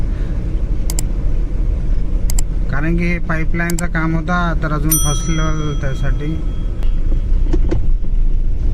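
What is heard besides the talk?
dump truck at a road and drainage construction site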